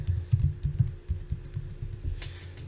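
A password goes in on a computer keyboard: a quick, uneven run of soft clicking keystrokes close by in a quiet room, with no talking.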